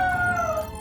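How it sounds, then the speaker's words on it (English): A cartoon dog lets out a single close, clear howl that slowly slides downward in pitch for under a second, with no talking over it. "Keep howling, Rubble."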